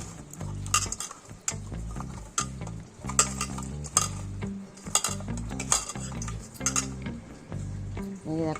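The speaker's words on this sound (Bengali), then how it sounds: "অল্প একটু সরষার তেল দিয়ে দিলাম। হাতে করে মেখে নিচ্ছি।" Pieces of rohu fish are mixed by hand with a little mustard oil in a bowl, making a quick, regular run of soft squelches and light knocks close by, with no talk.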